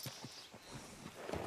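Horse hooves in Red Dead Redemption 2 clop in a quick, steady rhythm of soft thuds at close range, fairly quiet and brief with no talking.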